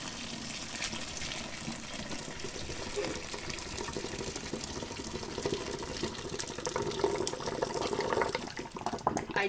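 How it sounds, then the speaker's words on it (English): Cooking liquid from home-canned pear sauce pours off cooked pears into a kitchen sink, a steady close splashing gush that continues unbroken for several seconds. "I'm going to pour the liquid away from me and just drain off as much of that as I can"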